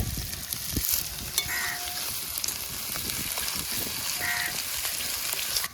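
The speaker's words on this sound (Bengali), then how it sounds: "পেঁয়াজটাকে ভালোভাবে সবার প্রথমে নাড়াচাড়া করে নিচ্ছি দিয়ে পেঁয়াজটাকে সবার প্রথমে ভালোভাবে কিন্তু ভেজে নেব" Onions stirred and frying in a pan outdoors for village-style cooking, a loud continuous sizzle with scraping stirs throughout and faint honking calls in the background.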